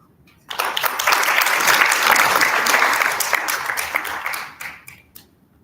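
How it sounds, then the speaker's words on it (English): Audience applause rings out after a speech at a national adolescent health forum: a sustained wash of many hands clapping, rising abruptly, holding steady for about four seconds, then tapering off with a few last claps. "Let's clap for him again."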